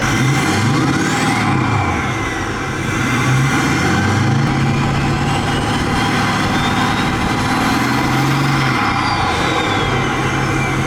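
A 6.4L Powerstroke diesel truck fitted with big turbos and still running a muffler revs steadily and loudly, its deep engine drone rising and falling in a couple of swells, alone without any talk.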